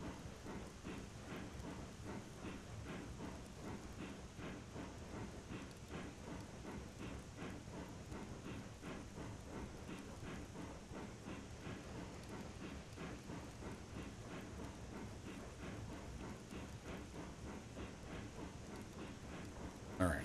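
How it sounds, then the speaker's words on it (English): A steam locomotive in the game Railroads Online chuffs steadily as it works a 20-car lumber train, a dense, continuous rhythmic roar with a constant hiss on top. "I love hearing steam working. It's got that good chuff sound."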